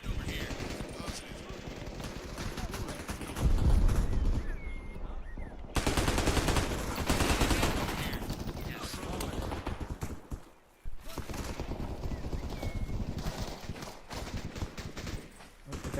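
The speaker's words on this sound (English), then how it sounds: "Look at that bot shooting at the wall and stuff." Automatic gunfire from a bot shooting at a wall in a multiplayer shooter game, with rapid bursts of shots, a few louder close blasts and footsteps, and game voice chatter mixed underneath.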